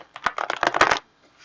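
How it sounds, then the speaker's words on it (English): A quick riffle of tarot cards shuffling, a dense burst of crisp flicks lasting about a second, close and clear, followed by near silence. "Do one last shuffle."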